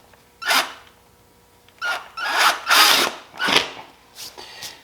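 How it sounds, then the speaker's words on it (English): A power drill pre-drills a screw hole for a luggage rack on a 2002 Honda Rebel 250, whirring in several short bursts, starting and stopping with brief pauses, loud and close. "now I am going to pre-drill the hole for the screw to go into"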